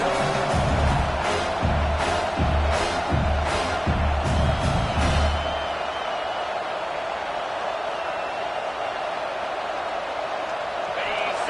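A big football stadium crowd roars and cheers to fire up the defense near the goal line, with rhythmic pulsing bursts early that fade into a steady crowd murmur.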